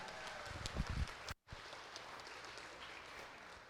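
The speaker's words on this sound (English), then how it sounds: "Let's give them a big round of applause" Faint applause from a crowd at an award ceremony, a brief rustle and thump, then a steady patter of clapping in the distance.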